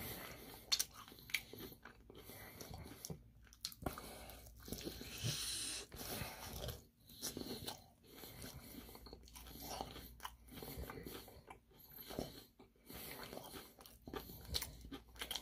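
Crunchy bites and chewing of Korean fried chicken during a mukbang, close and loud, with repeated crisp crackles in an uneven rhythm and soft breathing between bites, no talking.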